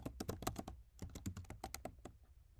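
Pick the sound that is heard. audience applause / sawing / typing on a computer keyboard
typing on a computer keyboard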